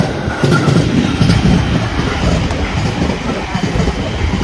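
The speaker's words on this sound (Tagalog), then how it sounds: "Ayan, daanan ng train." A train passes a railroad crossing in Japan, its loud, close rumble and rolling clatter steady for the whole stretch.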